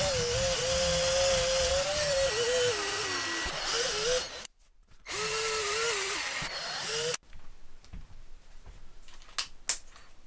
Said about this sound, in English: These are 10mm holes that are required here, so I'm going to drill those out now